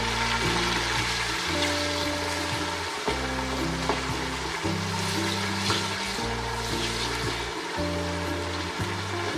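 Coriander, green chilies and tomatoes frying in a pan for a pulao kabab dish, with a steady close sizzle and occasional stirring, while low background music tones continue underneath.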